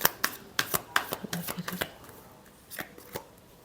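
Tarot cards being shuffled give a quick series of crisp, papery snaps and riffles, close and fairly quiet, thinning out toward the end.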